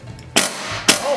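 A pulley pried off the engine shaft of a Cub Cadet Zero mower, with two sharp metallic bangs close up, a short gap between them and no talk.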